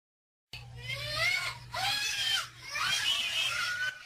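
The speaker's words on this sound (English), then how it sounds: "a small child is seen jumping out of her seat and screaming, fearful of an adult dressed as the Easter Bunny" A small child screams in fear at an adult dressed as the Easter Bunny, giving loud, high, sustained shrieks in three long bursts with brief breaths between them.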